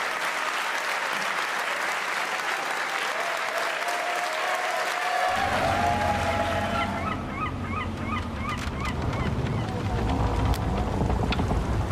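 A crowd applauds at an Age of Empires tournament held in a cinema, a dense, continuous roar of clapping that swells, with a rumbling boost and some cheering whoops in the second half.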